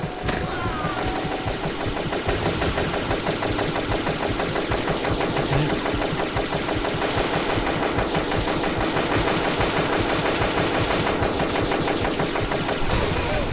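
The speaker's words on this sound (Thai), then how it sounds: "เฮ้ย คอปเตอร์มายิง หนีก่อน" A helicopter in a video game fires its machine gun in a long, unbroken rattle over a heavy rotor and engine drone. The sound stays loud and dense throughout.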